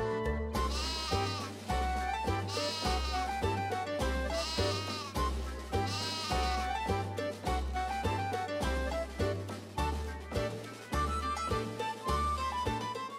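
Rhythmic game music with a steady repeating bass beat plays throughout in Final Fantasy 3 Pixel Remaster, with bleating-like tones woven through it rather than a clear distinct sheep call.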